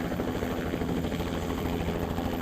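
A helicopter lifting off for a morning rush-hour traffic survey, its steady engine and rotor drone loud and continuous throughout, with no voices.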